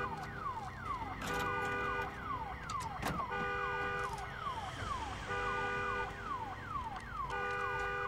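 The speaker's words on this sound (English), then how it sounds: "Okay, let's take out this car alarm." A car alarm in the video game Days Gone whoops in repeating falling tones in a steady looping cycle, with a few sharp game thuds mixed in, heard at moderate distance.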